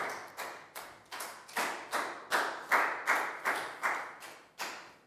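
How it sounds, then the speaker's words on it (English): Classroom claps for a pupil in a primary health lesson, a series of about a dozen evenly spaced, sharp single claps in a steady rhythm, fairly quiet and close, with no talking. "High five and a big round of applause for Pat, please, guys."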